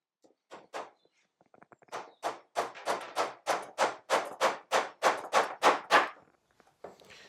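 Roughly a dozen sharp, evenly spaced knocks ring out in quick succession, close and fairly loud, as nails are driven with a hammer into a wooden WBC beehive floor under construction; a few softer taps precede the main run.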